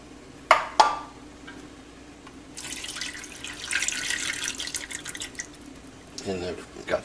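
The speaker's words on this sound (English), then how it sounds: "are going to add our clam juice now, so 8 ounces of clam juice plus the liquid from the minced clams" Clam juice and the liquid from canned minced clams are poured into a pan for linguine con vongole: a few sharp metallic clinks of the can, then a steady splashing pour for several seconds, ending with a low clunk.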